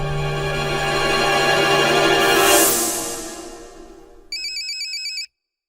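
A phone ringtone plays alone, a swelling melodic tone followed by a brief burst of bright, repeated electronic ringing that cuts off abruptly.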